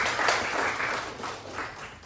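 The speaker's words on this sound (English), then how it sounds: "let's give them some applause, please" A crowd claps at a university talk, giving a steady, moderately loud round of applause that tapers slightly near the end.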